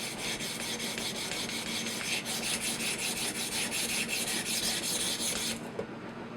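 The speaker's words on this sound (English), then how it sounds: "I'm going to grind away all that Sharpie." Kitchen knife edge ground on a sharpening stone in an Edge Pro drill collar system, a steady close rasping rub with rhythmic strokes that stops abruptly near the end.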